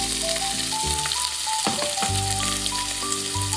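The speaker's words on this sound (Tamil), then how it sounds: "இந்த டைம்ல வெட்டி வச்சிருக்கிற வெங்காயத்தை போடுறேன்." Chopped onions sizzle and crackle steadily in a hot pan of oil with fenugreek, for a prawn drumstick curry, with a few faint clinks of stirring.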